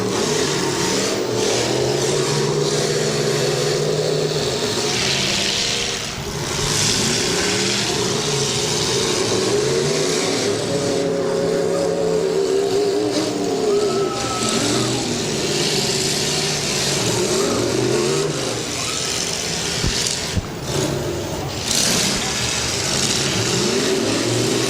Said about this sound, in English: Keep track of the last 4 pickup trucks running.